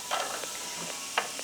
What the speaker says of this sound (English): You're gonna kind of stand back because these are gonna sizzle, because that is 425 degrees.